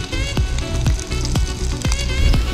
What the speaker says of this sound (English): You just let that sizzle